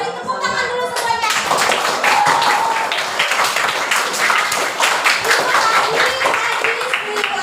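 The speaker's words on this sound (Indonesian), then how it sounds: "Beri tepuk tangan dulu semuanya." Students in a classroom break into clapping, a dense, lively patter of many hands that keeps going at close range, with voices mixed in.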